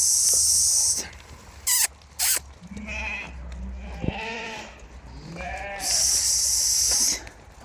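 Tatalilar breed breeding lambs bleat several times at close range, wavering calls spread across the clip, while shrill bursts of insect chirping rise and fall around them.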